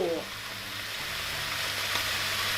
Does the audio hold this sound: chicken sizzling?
yes